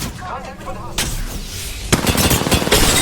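Rapid automatic gunfire in Apex Legends, close and loud, breaking out after a short quieter stretch with a character's voice lines over the start.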